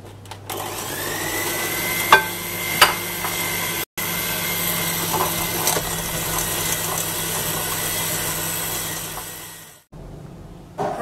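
Steady motorised whirring of an electric mixer working muffin batter with sifted flour for raspberry muffins, running evenly for about ten seconds with a couple of sharp clicks and a brief dropout before it cuts off.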